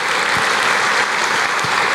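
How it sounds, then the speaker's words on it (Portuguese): A church congregation applauds steadily through a worship service, a dense, continuous wash of many hands clapping at close range with no voice over it. "Aqueles que creem, aplaudam o Senhor"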